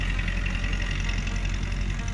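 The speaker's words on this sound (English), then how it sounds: "Got that tractor passing by just the right time." A tractor passing by outdoors, heard as a steady, fairly faint low engine rumble that holds even throughout with no other distinct sounds.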